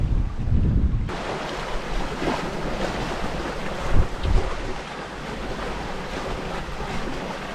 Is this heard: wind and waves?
yes